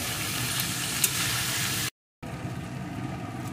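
Potatoes and cauliflower fry without water for a curry, producing a dense, steady sizzle that cuts out briefly and then resumes somewhat quieter.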